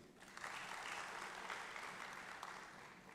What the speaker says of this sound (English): That's a big round of applause for him.